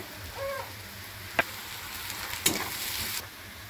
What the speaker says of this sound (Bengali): এবারে বাঁধাকপি কুচিগুলো দিয়ে এবারে এটাকে ভালো করে ভেজে নেব